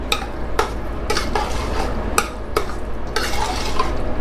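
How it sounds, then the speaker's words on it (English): Eggplant caviar of brinjals, kashk, spices and onions stirred in a pan over low heat, with regular scraping strokes about twice a second over a steady low hiss, close and alone. "On low heat we are going to mix this."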